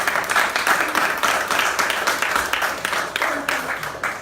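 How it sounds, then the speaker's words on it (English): An audience at the Trim Trad Festival launch applauds steadily and at close range, a dense patter of many hands clapping throughout that fades a little toward the end. "first, I say another round of applause for Gluais here for the introduction."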